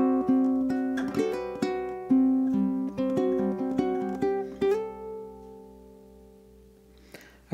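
A low G ukulele plays the second theme of a song, with bright plucked notes and ringing chords in a flowing rhythm. It is close and fairly soft, and it fades to near silence at the end.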